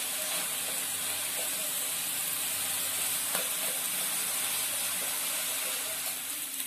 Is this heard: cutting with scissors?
no